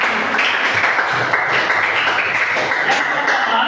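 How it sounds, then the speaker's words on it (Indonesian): Audience clapping hands in applause at a classroom-style talk, a steady, dense patter of many claps, fairly loud and sustained throughout. "oke, tepuk tangan dulu."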